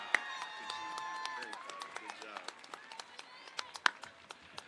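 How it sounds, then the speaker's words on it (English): Graduation audience at Moreno Valley High School clapping, a dense patter of many hands with louder close claps standing out, cheers and shouts mixed in, a voice briefly over it. "Can we please give them a round of applause?"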